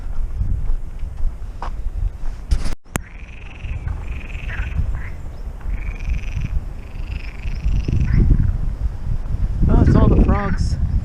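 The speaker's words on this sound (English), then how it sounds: "It's all the frogs out here." Frogs croak repeatedly at a pond in Parque da Cidade do Porto, a chorus of nasal calls through wind noise, with a louder burst of overlapping croaks near the end.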